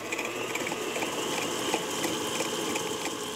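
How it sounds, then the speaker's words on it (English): An electric stand mixer whirring steadily as it creams butter and sugar together, a continuous mechanical hum with faint rhythmic ticking and no pauses. "we're going to bring those in the mixer and let them go and cream for"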